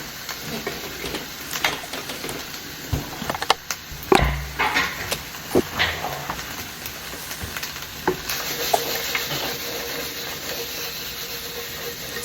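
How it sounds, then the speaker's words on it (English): Onion and peppers sizzling together in a frying pan with a little oil, a continuous crackling sizzle broken by several sharp scrapes and knocks of stirring, close and clear, no voices. "And I'll just add the onion right into the same pan as the peppers."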